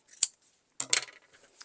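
Fabric being snipped with scissors while sewing a small zipper pouch for a key chain: two short, crisp cutting bursts about half a second apart, close and alone.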